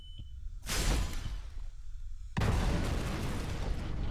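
A spaceship hull explodes from an EDX leak in the video game Tharsis: a loud whooshing blast, a short lull, then a second sustained roaring explosion with debris rumble, with no talking.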